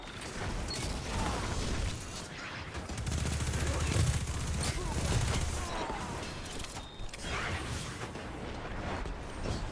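Destiny 2 gunfire during a zone-capture match, a dense, continuous barrage of shots layered with mechanical clatter and game effects, loud throughout with a swell in the middle.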